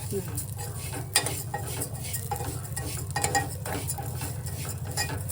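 Vermicelli frying in a pan and being stirred, with a low steady sizzle and irregular scraping and clinking of a utensil against the pan, fairly quiet.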